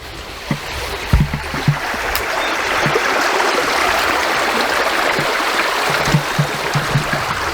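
A small springtime creek flows with a steady, broad rushing wash, mixed with soft low knocks and bumps from gear or footsteps nearby, no speech.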